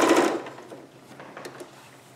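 A sewing machine stitches briefly over a garment sleeve seam, a short close burst that fades into quiet handling.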